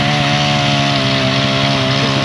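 Chainsaw cutting wood outdoors, a loud, close, steady engine whine held at constant revs through the whole stretch with no pauses or talk.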